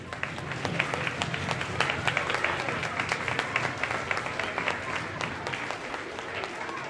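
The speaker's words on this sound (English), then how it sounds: "So give yourselves a round of applause." Audience applause at a Smith School shoestring play in Saddle Brook Township: a dense, steady wash of many hands clapping close by, sustained evenly for several seconds with sharp individual claps standing out.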